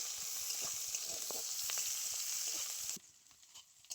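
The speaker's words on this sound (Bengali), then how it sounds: "এইদিকে তেল খুব ভালো করে গরম হয়ে গেছে, এরপর দিয়ে দিচ্ছি আমি পেঁয়াজ কিছু পরিমাণ মতো।" Onions sizzle and crackle steadily in hot mustard oil for a crab curry, a loud dense frying hiss with small pops that drops to a quieter sizzle near the end, no voices.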